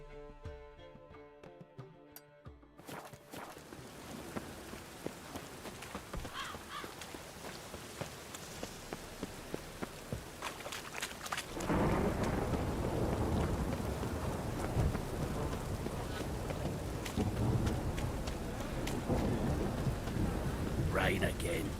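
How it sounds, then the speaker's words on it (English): Rainstorm in The Witcher 3: Wild Hunt, starting with a quiet musical stretch, then steady rain hiss with dull thunder rumbles that swells into a heavy, loud downpour for the last half. "Rain again."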